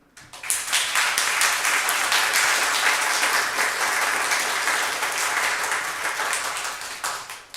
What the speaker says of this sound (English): give everyone who makes First Unitarian Universalist the great place it is a warm round of applause